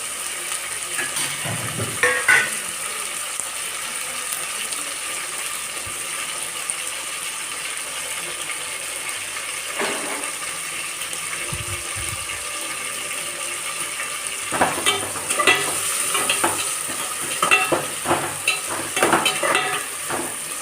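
Tomatoes and green chilies sizzle steadily in a pan for chicken curry, with intermittent scraping and rattling clusters from stirring.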